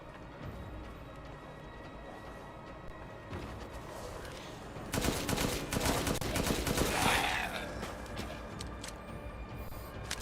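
Rapid bursts of gunfire from a weapon in Resident Evil Village on PS5, quiet at first and then a denser, louder volley of shots in the middle before tapering off.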